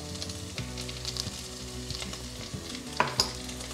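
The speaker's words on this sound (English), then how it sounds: "So I'm going to add 1 tablespoon ginger garlic paste" Ginger garlic paste sizzles steadily in a pan of nearly caramelized onions while making dry khichdi, a constant close frying hiss with occasional stirring clinks and no voices.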